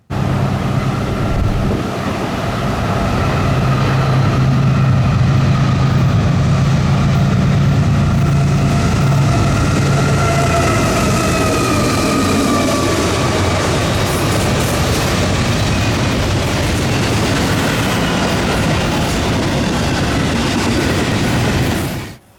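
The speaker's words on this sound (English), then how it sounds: "yet another eastbound intermodal, this time with some GE junk for power" An eastbound intermodal freight train hauled by GE locomotives rolls past loud and close, with a sustained rumble of wheels and wagons, a steady clickety-clack and a brief engine drone, fading near the end.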